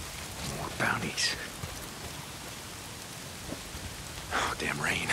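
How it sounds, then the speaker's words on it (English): Steady rain falls in the post-apocalyptic video game Days Gone, a continuous broadband hiss of drops on surfaces with a few faint scattered splashes, while a voice speaks over it at the start and again near the end. "If it's not the freaks, it's the goddamn rain. Why is it always raining?"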